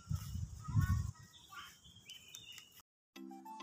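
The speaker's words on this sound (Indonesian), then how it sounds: "Ada suara burung." Birds singing outdoors on a late afternoon, a few faint chirps and short whistled phrases at a distance, mixed with low rumbling noise and a brief cut of silence.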